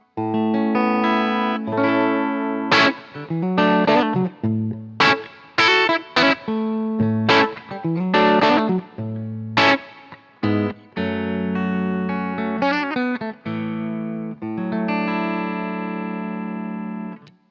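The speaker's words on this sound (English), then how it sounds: "this is turning the volume down and the tone knob all the way up" Strandberg Boden Essential electric guitar with its volume rolled back and tone knob fully up, a cleaner, softer tone with strummed chords and picked notes broken by short pauses.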